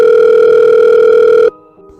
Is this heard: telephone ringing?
yes